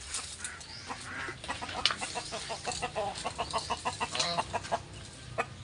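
Pet chickens clucking close by among potted ornamental plants, a steady run of short, rhythmic clucks and calls repeating throughout.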